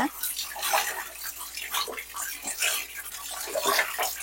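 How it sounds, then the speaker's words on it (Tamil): Water splashes and runs steadily over hands rinsing off a cumin-based hair dye, a close, continuous wet rinsing sound with brief swishes throughout. "அதை நான் தண்ணி ஊற்றி கழுவி காமிக்கிறேன் பாருங்க"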